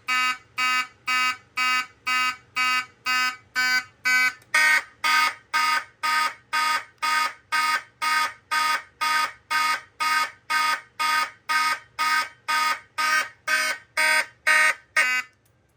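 A fire alarm horn blares in a steady pulsing pattern, roughly two bursts per second, loud and close, with no voices.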